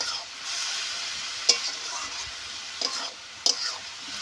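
Fried prawns and cabbage sizzling in a pan, a steady close hiss broken by three sharp stirring scrapes and clicks of the spatula.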